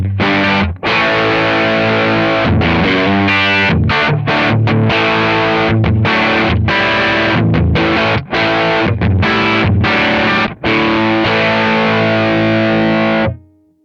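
An electric guitar with heavier drive through a Green15 amp profile plays loud, distorted chords and riffs close up with a few brief gaps, then cuts off at the end.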